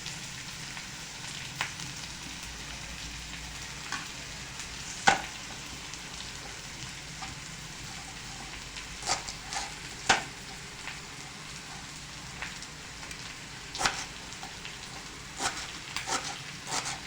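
Onion frying in a pan, a steady soft sizzle at low level with occasional sharper clicks and crackles of stirring, heard alone with no voices.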